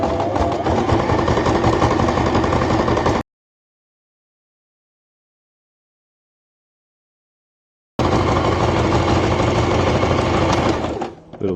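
Sewing machine zigzag stitching onto a fabric patch, a loud steady mechanical buzz of needle strokes in two bursts separated by a few seconds of silence.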